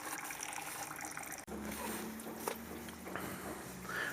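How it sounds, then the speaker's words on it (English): Faint engine fluid trickles and dribbles steadily into a bucket from a Mitsubishi Diamante 3.5L V6, close by, with a brief knock partway through. "You see, it's just draining out into a bucket"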